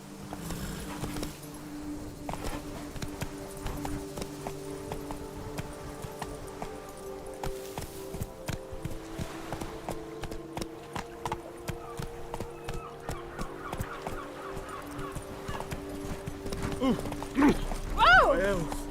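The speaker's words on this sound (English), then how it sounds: "Run, Roach." Roach the horse gallops in The Witcher 3, with rapid rhythmic hoofbeats running steadily throughout under game music, while someone talks over it.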